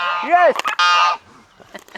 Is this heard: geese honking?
yes